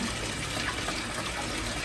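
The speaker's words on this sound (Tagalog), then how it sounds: "ang nilalagay namin dito na tubig, purified water" Purified water pours in a continuous, loud, close gush with a steady rushing stream and no voices.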